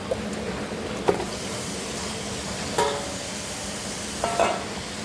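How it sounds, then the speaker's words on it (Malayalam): Chicken pieces with small onions fry in a pan, a steady broadband sizzle running throughout, punctuated by a few sharp spoon scrapes and clatters as the mixture is stirred; no voices. "നല്ലതുപോലെ ഇളക്കി യോജിപ്പിച്ച് കൊടുത്തിട്ടുണ്ട്"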